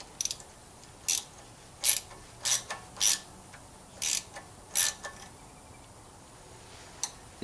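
A ratchet tightens bolts on the engine of a Dixon 72 ZTR mower. Short, sharp clicking bursts come in spaced runs of a second or less, close and fairly quiet, with no talk.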